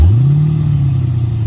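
A supercharged LSA V8 swapped into a Porsche 928 revs through its exhaust, a loud, close, deep burbling blip that rises quickly and then settles into a throaty drone, with no talk.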